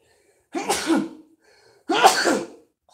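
Two loud, close sneezes about a second apart, each a sharp burst trailing off, with silence around them, heard during a visit to a cemetery.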